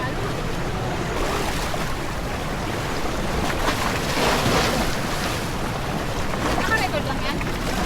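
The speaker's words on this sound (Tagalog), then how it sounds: "Dodi, may alon, mamaya na." Sea waves wash around a small boat at Longdong Bay, Taiwan, with steady surf and wind buffeting the microphone and a voice talking over the water noise.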